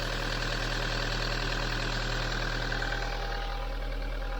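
A 2003 Toyota Land Cruiser Prado 120 idles steadily, its engine giving a low, even hum with a faint knocking texture, close and alone without talk.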